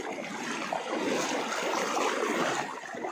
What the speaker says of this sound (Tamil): இல்லை, இது கொஞ்சம் தண்ணி ரொம்ப ஸ்பீடாக இருக்குது